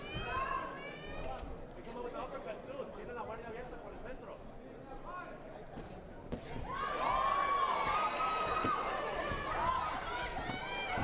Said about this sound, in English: You can hear that Rosales has brought a cheering section from South El Monte